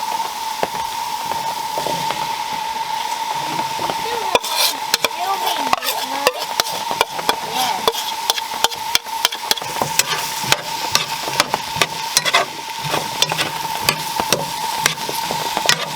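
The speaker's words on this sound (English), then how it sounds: "Give that a quick stir around." Chicken and tomato paste stirred in a hot pan, a steady sizzle under repeated scraping strokes of a utensil that come quicker and busier midway, close and fairly loud, no talking.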